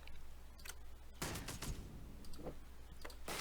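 Weapons fire in REDCON with a sharp loud blast followed by a cluster of rapid impacts, then several more scattered sharp shots over a low steady hum.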